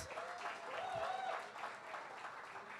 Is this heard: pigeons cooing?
no